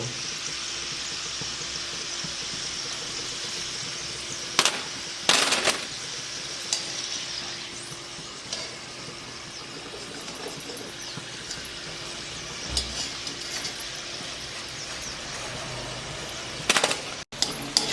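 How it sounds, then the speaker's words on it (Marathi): Potato snack frying in hot oil in a kadhai gives a steady, close sizzling hiss, with a few brief louder clatters of stirring or utensil contact. "मी ना आता सगळे असे तळून घेते"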